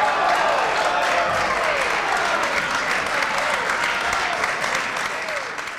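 Steady applause fills a parliament chamber, a dense, loud wash of many hands clapping that holds throughout and eases slightly at the end.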